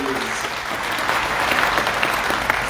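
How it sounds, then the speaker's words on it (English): An audience at a formal launch event in Namibia gives a big, warm round of applause, a loud, full and even wall of clapping that holds steady for nearly three seconds. "Big, warm round of applause."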